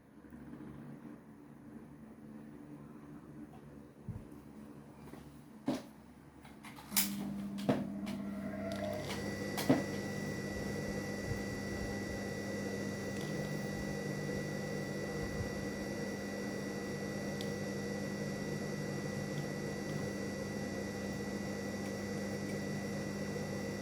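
Sewing machine stitching hijab fabric: a few sharp clicks and taps, then a steady, continuous motor whir with a constant tonal hum running to the end, fairly close.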